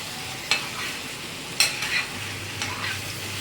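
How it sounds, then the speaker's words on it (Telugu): Fish curry masala stirred in a pan over steady sizzling, with three or four sharp spoon scrapes against the pan at intervals, close up, no voices. "ఫస్ట్ చేప వేసుకున్నాక ఇలాగ కలుపుకోవచ్చండి"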